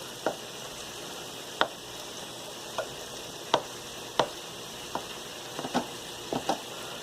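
A spatula breaks cooking chicken into smaller pieces in a Crock-Pot. About a dozen crisp taps and scrapes come at uneven intervals over a faint, steady background.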